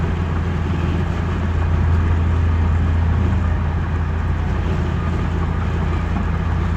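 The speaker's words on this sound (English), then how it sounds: "I really love driving this truck around" A 1988 Ford Ranger XLT pickup truck with a 2.3L engine driving, giving a steady, loud low engine drone and road rumble that holds unbroken throughout.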